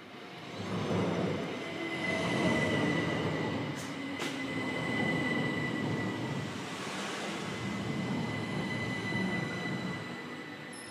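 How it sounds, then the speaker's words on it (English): A train rolls past with a steady heavy rumble of wheels on rails that builds and holds for several seconds, with a faint wheel squeal and no talking. "Actual train."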